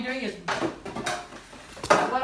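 Metal tongs clanking against a stock pot as ears of corn go into boiling water, several sharp metallic clinks and scrapes in close succession.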